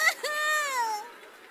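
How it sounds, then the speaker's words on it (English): A child's wailing cry from the video game Radiata Stories, one drawn-out, quavering sob lasting about a second after a short whimper, then it fades to near silence. "There's a child crying somewhere."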